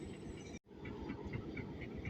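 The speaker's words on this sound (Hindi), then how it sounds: "सामने से चल के आ रही है प्लेटफार्म नंबर 2 से 130 डाउन थाल एक्सप्रेस" The 130 Down Thal Express rolls into platform 2 at Rawalpindi railway station with a continuous rumbling, clattering roar of wheels and engine, loud and close, broken by one brief cut near the start.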